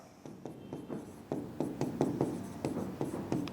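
Pen strokes forming letters by hand on paper, a close series of short scratchy taps and scrapes in an uneven rhythm, quiet and with no voice over them.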